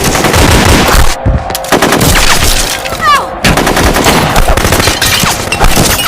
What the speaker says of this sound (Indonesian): Ki segera menyembunyikan Puk hingga terjadilah aksi baku tembak yang sangat epik